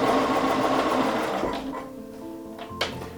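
A sewing machine stitches a quilt block seam, its fast steady whirring needle running close and continuous before slowing and stopping, followed by a faint click.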